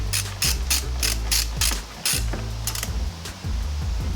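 A ratchet works loose 10 mm steering wheel bolts on an NA Miata, giving rapid close clicking strokes in repeated bursts over a low mechanical rumble.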